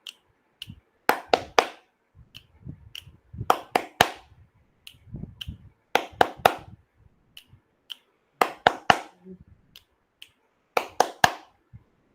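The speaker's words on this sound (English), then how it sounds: "2 snaps in fingers and 3 times of claps" Kindergarten children snap their fingers twice and then clap three times, repeating the sharp five-beat pattern in several groups separated by short pauses, with no talking.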